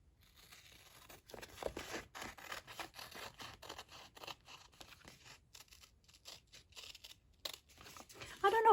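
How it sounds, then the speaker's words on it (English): Scissors snip through washi tape in short, faint, irregular crinkly cuts and rustles, with a soft voice in the background. "I'm going to cut this washi"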